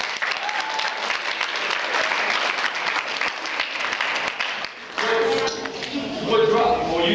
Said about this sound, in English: Clap it up first.